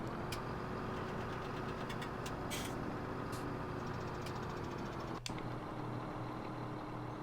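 A tractor engine idles in Farming Simulator 17, a steady mid-pitched mechanical drone with a few faint clicks and a brief interruption near the end, no talking.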